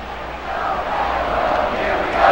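Crowd noise swells steadily from a ballpark in the MLB 2K5 baseball video game, a Cardinals versus Astros matchup, as a broad continuous roar of fans under the stadium atmosphere, rising slightly toward the end.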